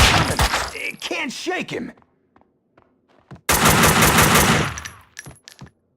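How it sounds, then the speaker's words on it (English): Rapid automatic gunfire from the Max Payne 2 video game, loud bursts in two stretches with a short quiet gap between them, with someone speaking briefly alongside. "Someone must have heard the gunfire."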